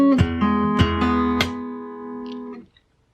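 Fingerstyle acoustic guitar plays a slow melody, with percussive body slaps and strums landing in an uneven rhythm over ringing sustained strings that fade out at the end.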